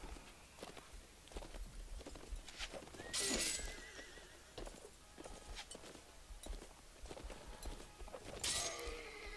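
Horse neighing in the video game Mount & Blade: Warband, two loud whinnies several seconds apart over steady hoof clip-clop and battle clatter.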